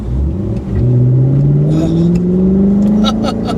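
A custom-tuned Chevy SS accelerates hard, and its engine pitch climbs steadily, drops at the shift from second to third, then climbs again. Heard loud from inside the car, with a voice over the engine.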